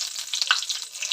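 Whole dry red chillies and bay leaves fry in hot oil, giving a brief, steady, close crackling sizzle with no talk.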